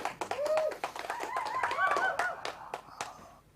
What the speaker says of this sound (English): We have to give 4 of you a round of applause.